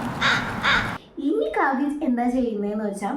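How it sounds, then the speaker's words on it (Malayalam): A crow gives two loud, harsh caws close by in quick succession. A person then starts speaking and keeps talking to the end. "കേൾക്കാം പുളി മരക്കൊമ്പിൽ നിന്നും കാക്ക കരഞ്ഞിടും"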